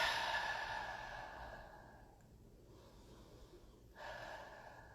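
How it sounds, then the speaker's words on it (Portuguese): Slow, soft breathing during a children's yoga exercise, a long airy exhale fading out and then a fresh breath beginning, quiet and close with no talking. "E agora a gente vai fazer 2 vezes essa respiração bem"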